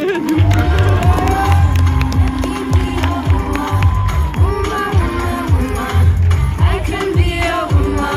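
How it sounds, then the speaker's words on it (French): A crowd at a French national equestrian championship medal ceremony claps and cheers loudly and continuously, with music playing and voices shouting throughout. "Merci d'applaudir les médaillés."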